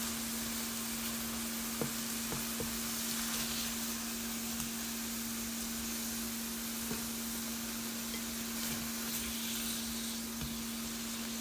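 Onion frying in a pan and stirred with a spatula, a steady close sizzle with occasional soft scrapes and taps, alone without talk, under a constant low hum.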